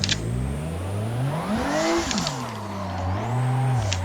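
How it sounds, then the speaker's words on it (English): Toyota Supra engine revving hard during a donut, pitch climbing and dipping as the throttle swings, loud and close with a faint tire squeal under the steady roar. "let's try this donut again"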